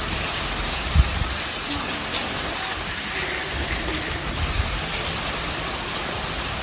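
Steady rain of the first monsoon shower pours down outdoors as a continuous broadband hiss, with a single brief thump near the start and a faint voice under it.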